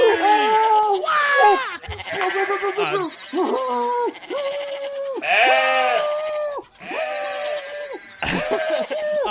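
Goats in the video game Goat of Duty bleat loudly again and again, wavering cries coming close together and one after another for several seconds, with no talk over them.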